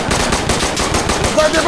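Loud, steady machine gun fire in the shooter game Insurgency: Sandstorm, a continuous rapid burst of shots close up with no talking.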